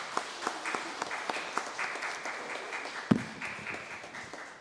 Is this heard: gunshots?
no